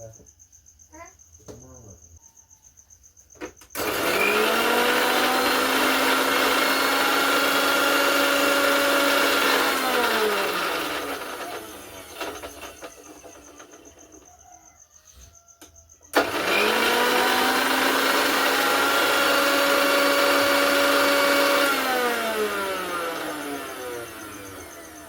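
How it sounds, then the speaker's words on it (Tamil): An electric blender whips mayonnaise with its lid on. Two long, loud runs of steady whirring motor whine, each rising as it spins up and sagging as it winds down, separated by a quieter pause with faint handling sounds. "இனி இதை சேர்த்து ஒருக்கா மூடி போட்டு அடிச்செடுப்போம்"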